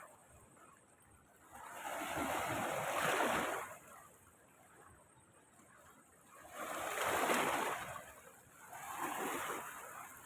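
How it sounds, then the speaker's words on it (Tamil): The Kaveri River at Erode rushes in rising and falling waves of noise, loud swells separated by quieter stretches, with no voices. "தண்ணி சீறி பாய்ந்து வருது"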